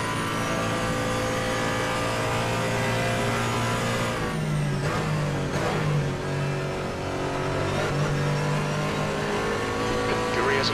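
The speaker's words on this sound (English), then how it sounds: "there's a faster class car approaching" In a multi-class endurance race at the Nurburgring, a faster-class race car's engine screams and revs loudly, with rising and falling pitch and tyre noise, while a voice talks over the roar.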